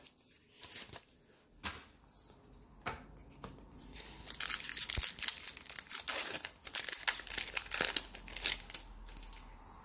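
Ikoria Collectors blister packs of Magic cards being torn open, close crinkling and tearing plastic in irregular bursts, growing busier and louder toward the end.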